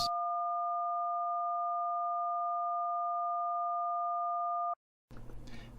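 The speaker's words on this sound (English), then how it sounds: "So a DTMF tone is a combination of two different tones played at the same time." A telephone DTMF tone for the digit 1 sounds as a steady, pure two-pitch beep held for nearly five seconds, then cuts off before a short burst of background noise.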